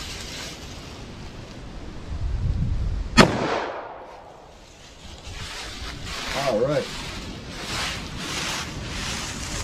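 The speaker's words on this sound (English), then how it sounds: "let's see what we get with our 357 Magnum" A single sharp .357 Magnum gunshot fired with Winchester Silvertip ammunition into ballistic gel from a short-barreled handgun, a loud crack followed by fading rumble and rustling outdoor noise, with no speech.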